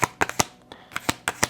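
Playing cards being shuffled up close, with a quick series of crisp riffling snaps and flicks in two short bursts.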